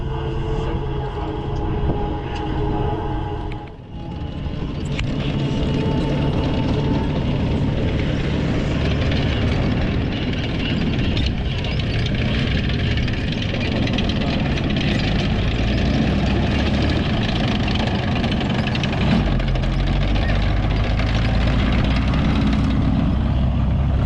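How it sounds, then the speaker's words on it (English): A T34 tank drives around the front of an arena at a Saturday 2024 military vehicle show, its loud, rough engine rumbling steadily nearby for a long stretch with a brief dip early on. "Here's a T34 riding around the front of the arena. Quite a noisy tank compared to the M36."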